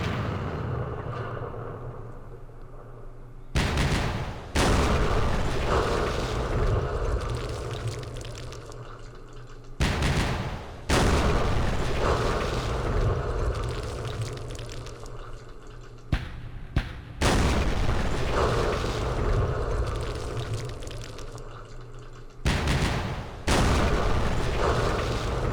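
Mortar fire in the Campaign Series Vietnam war game: repeated loud explosive booms arrive in irregular bursts, each sharp onset followed by a rumbling decay that fills the space between blasts.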